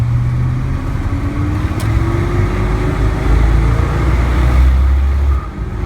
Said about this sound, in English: car pulls, so has a little chirp